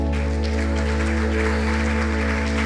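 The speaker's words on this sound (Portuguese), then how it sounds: "Você pode aplaudir ao Senhor?" Church congregation applauding, a steady wash of clapping at moderate level sitting over a strong, constant low electrical hum throughout.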